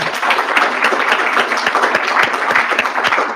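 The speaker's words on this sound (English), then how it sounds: "Let's give them a round of applause." Audience applause for a panel of experts at a discussion in Washington DC, brisk dense clapping from a roomful of people, steady and fairly loud throughout.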